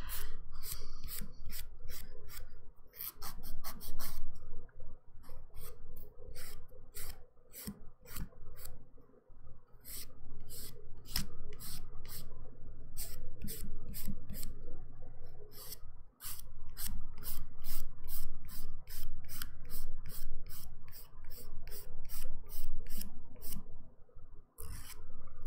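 Nails being buffed during a dip manicure, a soft, continuous rasping rub close up with rapid repeated back-and-forth strokes, pausing briefly now and then before resuming; no talking.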